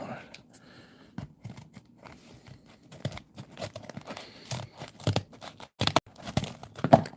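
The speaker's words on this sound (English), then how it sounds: "I know that's not the best way to open the pack." A blind box pack torn open by hand, giving irregular bursts of ripping and crinkling plastic and foil over several seconds, close up, with quieter rustling between the louder tears.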